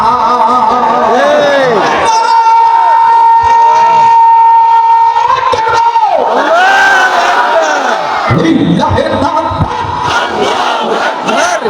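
A large crowd at a Bengali religious gathering in Phulbaria shouting slogans in unison, loud amplified chanting that rises and falls in waves, with a lead voice calling over a microphone.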